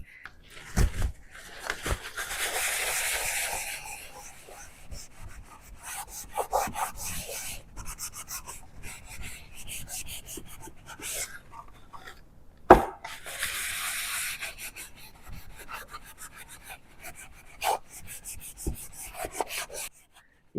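A cloth rubbing black wax into the dry wood of a drawer makes a rasping, scrubbing sound in bursts of back-and-forth strokes with short pauses between them. It is close up, with an occasional knock.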